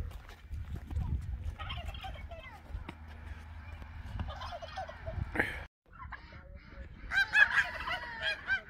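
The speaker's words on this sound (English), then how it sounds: "I can hear some ducks." Ducks quack in a village in Wanlockhead, Scotland, with a few honking, harmonic calls clustered near the end over steady outdoor ambience, while people talk and footsteps and movement sound close by.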